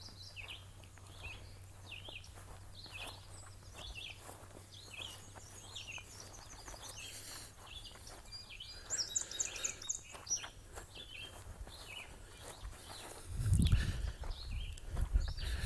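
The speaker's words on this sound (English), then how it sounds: "Can you hear the birds?" Birds chirp outdoors in a steady scatter of small, high calls at moderate distance, thickening into a busier flurry midway, with a brief low thump and rustle near the end.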